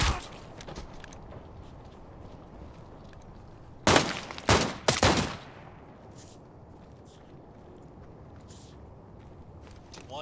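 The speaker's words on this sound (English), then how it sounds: "I'm gonna fucking kill this operator with a pistol." Pistol fire in the Arena Breakout Infinite shooter game: after quiet shuffling, three loud sharp shots crack in quick succession, then faint footsteps and rustling return.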